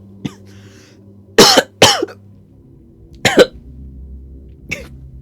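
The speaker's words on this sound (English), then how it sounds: "How long have you had that cough?" Several harsh, separate coughs come in short bursts, a pair and then single coughs, close and loud over a quiet background.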